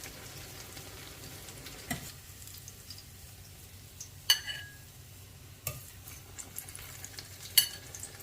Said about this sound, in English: So I kind of like my plantain fried dark. So that's why I leave them in the pot.